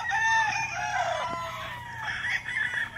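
Several roosters crow in overlapping calls at a gamefowl farm in Malvar, Batangas, some near and some farther off, with steady clucking and farmyard noise underneath.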